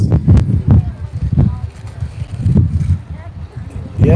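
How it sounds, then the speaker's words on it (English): Strong, gusty outdoor wind buffets the microphone in repeated low rumbling blasts, loud and uneven throughout, on an open-air flea market's opening day, with some talk mixed in. "It's very windy. It's gusting up to like 30 out here."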